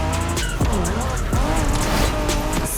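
A Honda NSX racing in The Crew Motorfest video game, tires squealing in sweeping pitch bends as the engine revs hard, loud and close throughout.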